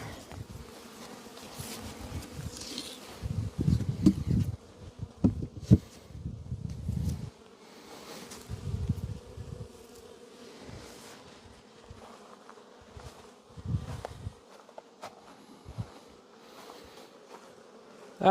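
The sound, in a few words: honey bees buzzing around an open hive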